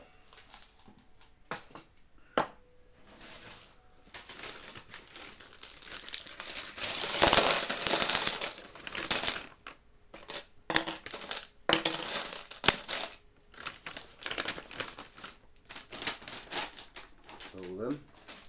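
Small plastic Lego pieces for a Star Wars V-19 Torrent Starfighter set rattle and clatter as they are tipped out of plastic bags, in bursts of rapid clicking with crinkling plastic, close up and fairly loud.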